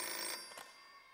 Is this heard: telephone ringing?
yes